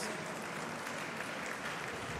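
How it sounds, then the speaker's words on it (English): Applause from the audience for award winners at an engineering awards ceremony, a continuous, fairly soft patter of clapping that holds steady for a couple of seconds. "can we please give them another round of applause?"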